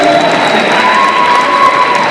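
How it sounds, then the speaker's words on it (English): A crowd of students at a school pledge rally cheers and applauds loudly and continuously, a dense wall of clapping and shouting close around. "we're going to give our seniors a round of applause again for pledging"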